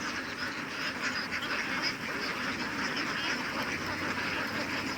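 Ducks quacking and splashing as they bathe in a stream on a farm raising thousands of laying ducks, a dense, steady chorus of many birds close by with no talk.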